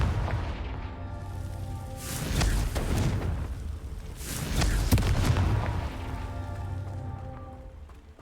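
Repeated Confringo blasting spells in Hogwarts Legacy produce rumbling booming explosions, two big swelling blasts a few seconds apart over continuous crackling game ambience.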